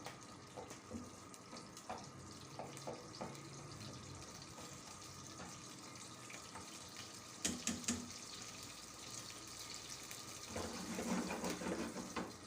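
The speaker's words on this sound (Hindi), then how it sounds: "अब हमने ये बीफ धोया हुआ है" Raw beef washed under a running kitchen tap: a steady hiss of flowing water with scattered splashes and soft knocks as the meat is handled, growing a little louder near the end, with no talking.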